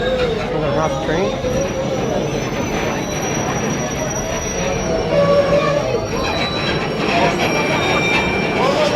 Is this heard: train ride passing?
yes